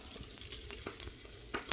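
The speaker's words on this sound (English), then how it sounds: "I'm going to just show you guys my bacon frying." Bacon frying in a pan alongside green beans, a steady close sizzle with scattered sharp pops and crackles throughout.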